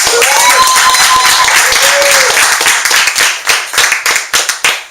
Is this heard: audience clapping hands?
yes